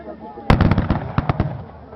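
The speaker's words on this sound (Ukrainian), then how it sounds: "Козаки навздогін б'ють по них з мушкетів і гармат." A Cossack battle at Berestechko brings a burst of musket and cannon fire: several sharp cracks and booms in quick irregular succession, loud and close, with a voice speaking over the gunfire.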